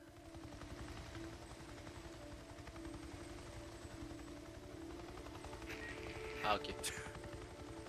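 Helicopter in the Days Gone video game, a steady low rotor thrum and engine drone running throughout, with a brief sharp burst near the end and a voice speaking briefly over it.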